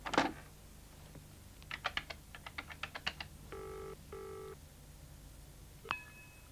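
A telephone dialled to call home: a few handset clicks, a run of quick key presses, then two steady ringing tones and a brief beep, close and clear with no talk.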